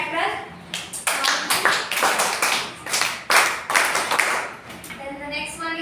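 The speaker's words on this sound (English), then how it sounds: "clapping pattern" A classroom clapping pattern, several rhythmic bursts of hand claps close by, with short gaps between groups and a voice talking through them.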